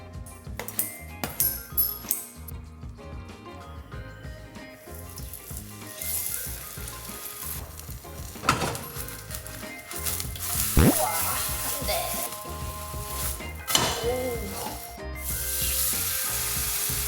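Korean pancake batter fries in a pan in a home kitchen, building from scattered clinks and scraping into a loud, continuous close sizzle with bursts of crackling.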